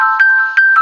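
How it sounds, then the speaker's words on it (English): A video game phone rings with a bright electronic ringtone, a steady tone broken by repeated chiming pulses, clear and loud with no voices. "pick up the phone."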